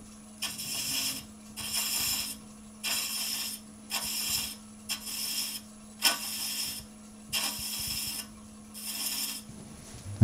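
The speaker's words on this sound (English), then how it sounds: "That's our first thread cut." A thread chasing tool cuts a wooden thread on a turning lathe for a salt and pepper shaker, giving eight rhythmic bursts of scraping, ratcheting chatter, each lasting about a second, with brief pauses between strokes and a steady motor hum underneath.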